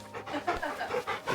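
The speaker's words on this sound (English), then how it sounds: "I gotta pet my dog" A dog pants in Final Fantasy XVI while being petted, with quick, breathy in-and-out huffs repeating steadily, close and clear, and light game ambience underneath.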